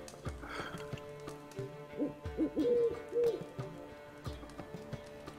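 Owl in The Witcher 3 gives a few soft, rounded hoots in the middle, over quiet game ambience with low background tones.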